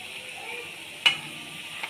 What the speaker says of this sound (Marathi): हे असं पलटी करून घ्यायचं दुसऱ्या साईडनं पण खरपूस एकदम तळून घ्यायचं